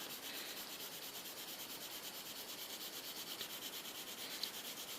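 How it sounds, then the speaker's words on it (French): Colored pencils scratch and rub across paper as two colors, violet and orange, are layered and blended for a misty landscape, a soft continuous hiss of close, quiet strokes with no talking. "Donc je colorie et puis j'essaye de mélanger de la même façon mon violet et mon orange à la limite"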